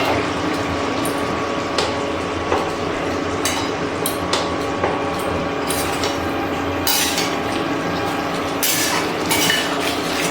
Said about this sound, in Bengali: নাড়াচাড়া করে নিলাম।